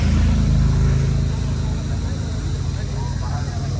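A Holden Torana rolls in at the Bonville Coffee & Cars monthly meet, a low, rumbling engine drone with a steady roar heard nearby, while a voice talks over it.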